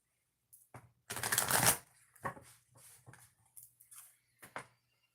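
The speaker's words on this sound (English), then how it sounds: "2 shuffles." Tarot cards riffle in one long dense shuffle, then several softer taps and slides as the deck is squared, close and quiet with no talking.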